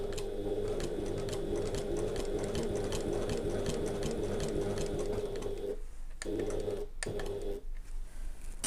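A domestic sewing machine stitches the corner of a handbag with its needle down, giving a steady, close, fast mechanical whir that runs without a break, then stops briefly twice near the end and starts again.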